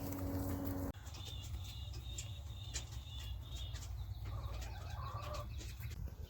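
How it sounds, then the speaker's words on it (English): Several chickens on a homestead cluck and murmur softly at a distance over a low rumbling background, with occasional short calls scattered throughout. "I was inspired to get chickens"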